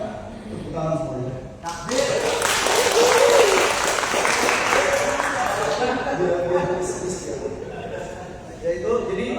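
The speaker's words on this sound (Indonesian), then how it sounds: "Tepuk tangan semuanya." An audience at a cultural congress in Cilegon breaks into applause that swells after a couple of seconds, holds as a thick burst of many hands, then thins out, with voices talking over it throughout.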